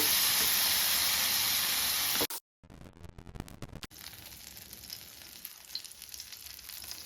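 Food fries in hot oil in a pan with a loud, dense, continuous sizzle, then a break and a quieter crackling fry with scattered pops, close by and with no talking.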